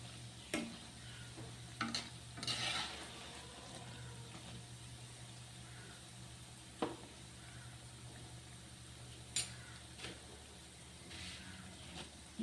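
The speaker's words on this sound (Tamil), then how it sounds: "எண்ணெய் மிதமான தீயில தான் வச்சு இதை பொறிச்சு எடுக்கலாம்" Soaked chana dal frying in oil over medium heat for Diwali laddu, a steady low sizzle running throughout with occasional sharp clinks and scraping stirs, fairly quiet and close.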